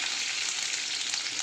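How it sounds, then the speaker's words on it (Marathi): Steady, dense sizzle of mustard seeds, curry leaves and chillies frying in hot oil, a close continuous hiss without talk. "घालते मोहरी, कढीपत्ते, मिरची,"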